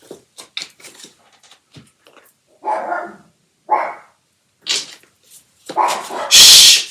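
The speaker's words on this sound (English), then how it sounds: "There goes my dog barking" A dog barks in scattered loud bursts indoors, sharp single and double barks with short gaps between them, ending in a louder clustered outburst, no talking.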